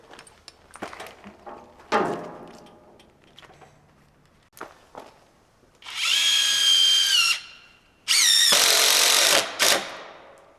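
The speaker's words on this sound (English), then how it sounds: "I'm going to run a screw down through" A power drill drives screws down through stacked plywood sheets, with two loud whirring bursts separated by a pause, preceded by clattering handling and footsteps.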